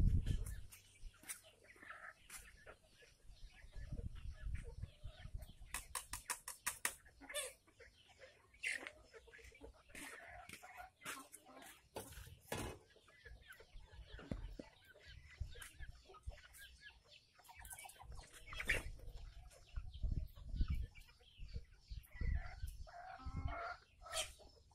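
Chickens in a poultry house cluck and cackle in scattered bursts, a rooster crowing now and then, close and fairly faint, with a voice speaking at times among them.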